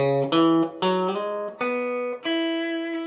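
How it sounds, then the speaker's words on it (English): Clear plucked guitar notes climb one by one up a chord, each ringing out before the next, played alone and close. "just going right up the arpeggio of the chord"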